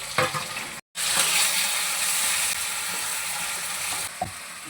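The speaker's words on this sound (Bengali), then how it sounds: "ভাজতে হবে।" Food frying in a pan gives a loud continuous sizzle, broken by a brief silent gap near the start and ending with a soft clack.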